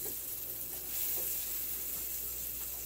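A whole stick of margarine melts in a hot frying pan, giving a steady, close sizzle with faint crackles and a soft stir partway through, no voices.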